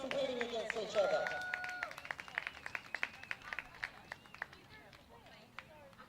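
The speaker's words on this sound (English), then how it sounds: "big round of applause for these two dogs competing against each other" Scattered clapping from a modest crowd at a puppy dog show, individual claps spaced out and irregular, with a voice speaking over the start before the applause thins out.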